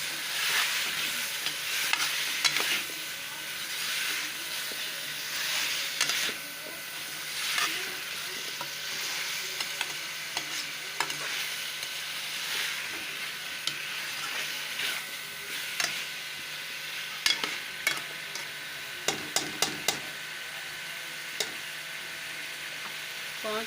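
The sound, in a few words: chicken and potatoes frying and being stirred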